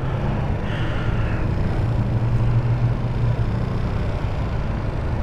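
A GY6 50cc scooter engine runs at high idle, giving a steady, continuous low drone that holds an even level throughout, with no voices.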